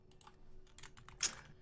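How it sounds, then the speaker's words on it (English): Computer keyboard keys clacking in a quick, uneven run of taps with one sharper keystroke near the end, close to the microphone but quiet overall, with no talk. "When you hear my keyboard clacking"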